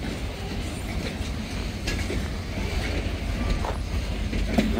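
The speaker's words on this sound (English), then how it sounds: "this train is leaving now East Kingsford" A freight train pulls out of East Kingsford on a Wednesday morning, rolling slowly past with a steady rumble, rhythmic wheel clatter and faint squeals, heard from nearby at moderate volume with no talking.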